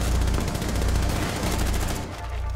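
Rapid automatic gunfire in Rainbow Six Siege during a hostage team deathmatch on the Presidential Plane map, a dense loud burst of shots that cuts off near the end.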